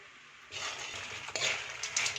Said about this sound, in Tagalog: Dira dahil butang ang saging nga giprito.